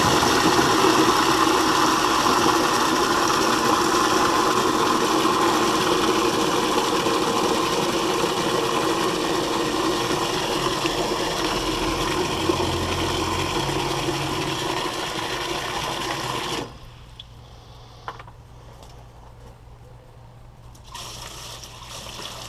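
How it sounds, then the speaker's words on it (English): A commercial flushometer toilet flushes into a bucket: a loud, continuous rush of gushing water runs for about sixteen seconds, then cuts off abruptly, leaving a quiet low hum with faint trickles. "give it a flush"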